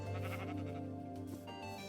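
A Minecraft sheep bleats once, a close, wavering baa that stays clear from start to finish of the short moment.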